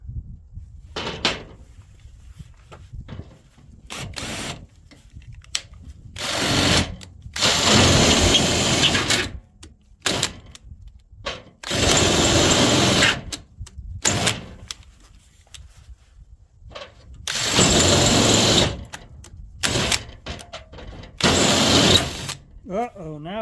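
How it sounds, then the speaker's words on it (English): A power drill whines in repeated bursts, drilling out a threaded hole to 1/4 inch, starting and stopping several times, with clanks and quiet handling noises between runs. "First step, we're going to drill it back out to the 1/4 inch hole."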